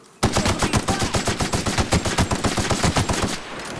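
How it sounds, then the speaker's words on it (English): An assault rifle in The Outer Worlds fires one long sustained burst of rapid, evenly spaced shots, loud and close, then trails off into ambient noise. "I want to try that assault rifle too"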